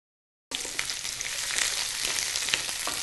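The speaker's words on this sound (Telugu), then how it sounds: "ఇప్పుడు ఆయిల్లో ఉల్లిపాయ ముక్కలు వేసేస్తున్నాను" After half a second of silence, onion pieces drop into hot oil for fish pulusu and burst into a loud, close, continuous hissing sizzle with fine crackles that holds steady to the end.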